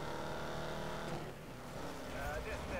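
Shelby Cobra 427 engine in the Need for Speed Most Wanted racing game, a steady low drone holding throughout under a dense game mix, loud and continuous.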